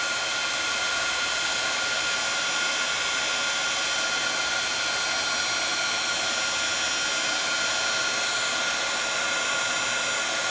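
Heat tool blowing over embossing powder: a steady, loud, high-pitched fan whoosh and whine that runs unbroken from start to finish, with no talk.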